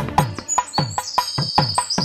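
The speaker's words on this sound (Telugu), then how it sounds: "పందిట పిచ్చుకలు సందడి చేయగా" Sparrows chirp busily in a wedding pandal, bright repeated tweets layered over a steady rhythmic beat and a sustained high tone, close and lively, with no talking.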